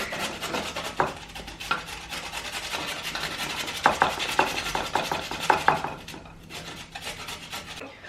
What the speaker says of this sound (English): you're gonna get tired of shredding it